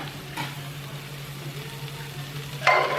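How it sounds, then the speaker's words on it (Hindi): Red chili and coriander powder frying in a pan, a steady, moderate sizzle with a brief clatter of a utensil or stirring near the end. "इसे हम थोड़ी सी देर के लिए भून देंगे।"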